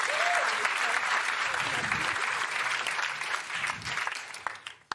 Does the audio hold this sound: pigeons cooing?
no